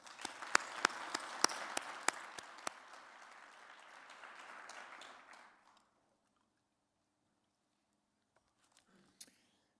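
An audience at the Akureyri 2024 sports awards ceremony applauds an honoured athlete, with a few sharp claps standing out from a steady patter. The applause fades out after about six seconds, leaving near silence with a faint rustle at the end.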